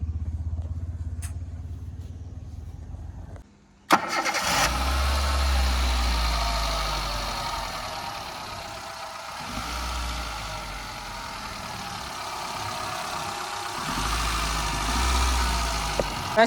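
A used Hyundai Santro car's engine cranks and catches after a short quiet moment, then settles into a steady, smooth low idle with a faint rumble that rises and falls slightly.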